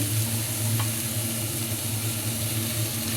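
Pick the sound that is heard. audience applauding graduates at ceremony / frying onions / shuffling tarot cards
frying onions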